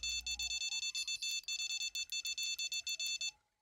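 Electronic bite-alarm beeping during carp fishing by weeping willows, a rapid run of evenly spaced high-pitched beeps at moderate level that stops abruptly, with a low rumble at the start.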